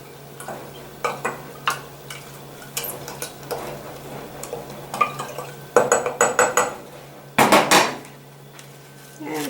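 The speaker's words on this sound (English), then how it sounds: "Stir it up." Turbinado raw sugar is stirred in a pot, with a series of scraping clinks and knocks of a spoon against the pot that get louder in bursts toward the end, over a steady low hum and with no talking.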